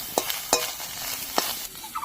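Green chillies fry in hot oil in a pan, a soft steady sizzle broken by a few sharp scraping strokes of a spatula stirring them.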